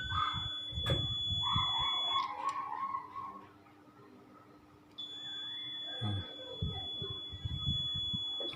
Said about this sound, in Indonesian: Kalau kita pakai buzzer pasti akan mengeluarkan suara.